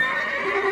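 A horse whinnies in a sound effect, a sustained, wavering neigh with a bright, tonal quality that holds steady for under a second with no speech over it.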